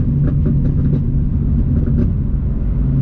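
A car idles close by after its misfire has been fixed, a loud, low, steady rumble with a faint, irregular ticking over it and no voices.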